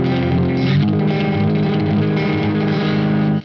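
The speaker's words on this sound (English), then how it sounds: "do something like this where you have this really kind of percussive, wavy sound" Electric guitar on a clean tone with effects, strummed in a percussive, wavy raking pattern; a dense, steady wash of chords fills the clip at close range with no talking, then cuts off abruptly at the end.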